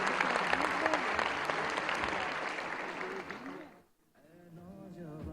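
An audience at a formal event welcoming Prime Minister Shehbaz Sharif breaks into loud, dense applause that fades briefly around the four-second mark, with a voice speaking over it.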